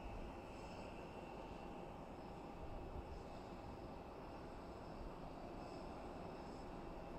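An airliner departing Boise Airport heard from a distance as a faint, steady jet roar with a broad even rumble and a thin high whine, unchanging throughout and with no talk.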